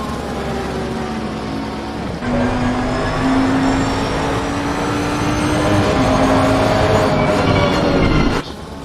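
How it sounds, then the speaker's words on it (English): Race cars in a sim racing game at the Misano circuit scream past the pits one after another, loud rising and falling engine whines over a constant roar, heard from a car sitting still in pit lane. "Hear those cars fly past him as he's in the pits."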